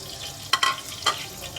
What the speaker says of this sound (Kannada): ಎಣ್ಣೆಲಿ ಫ್ರೈ ಆಗ್ತಾಯಿದೆ